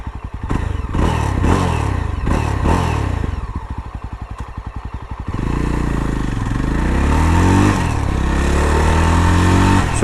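A Yezdi Roadster motorcycle engine turns over with a few clattering cranks, then catches and settles into a loud, steady idle that rises as it is revved, close up with no talking.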